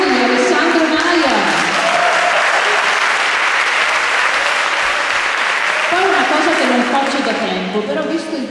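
Audience at a choir concert breaks into sustained, loud applause, dense clapping that fills the hall throughout while a voice talks over it at the start and end.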